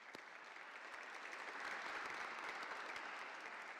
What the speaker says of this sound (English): Can you join me in a round of applause for our panel?